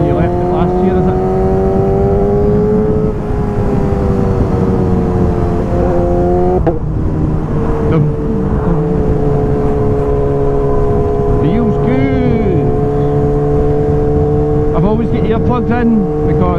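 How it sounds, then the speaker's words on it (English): A loud, high-revving 1000cc Suzuki GSX-S motorcycle drones steadily while riding, with its exhaust note rising and falling through gear changes and strong wind rush mixed in throughout. "this bike is absolutely mad loud, and honestly the wind and the exhaust paired together is a recipe for a sore head"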